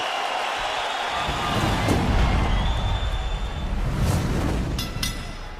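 A loud hometown crowd at an MMA fight roars and cheers continuously, a dense wash of voices that swells in the middle and stays rowdy throughout.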